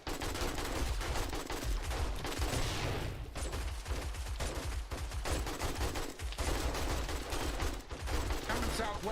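Shotgun fire in the survival game 7 Days to Die, dense rapid bursts of shots over a constant loud game soundscape, with people talking throughout.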